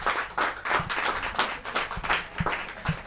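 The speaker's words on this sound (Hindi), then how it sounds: "यार तालियां बजे तो ढंग से बजे ना" Audience applause at a Hindi poetry recital, kavi sammelan, with dense, fairly close clapping that rises and falls in bursts across a few seconds, with no talk over it.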